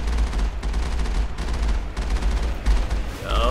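Sustained heavy turret gunfire from the video game Mass Effect, a dense continuous barrage of booming shots with steady low rumble and brief lulls, loud and close, with no talk over it.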